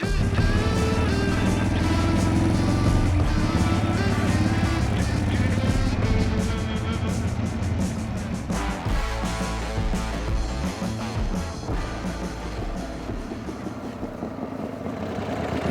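A Harley motorcycle engine runs steadily at idle after being started, a continuous loud low rumble with slight unevenness that fades a little toward the end.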